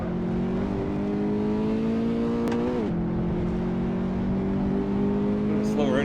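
A race car in Assetto Corsa, a Fiat 500 Abarth or Toyota GT86, hums at steady high revs, dips briefly as it shifts or lifts, then resumes its drone, loud and close, with a voice talking over it.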